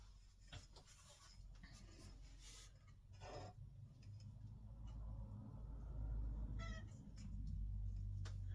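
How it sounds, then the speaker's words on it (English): A cat whines indoors with a few short, scattered meows amid light rustling and low room rumble, moderately close and otherwise without speech. "my cat won't stop whining until he gets what he wants"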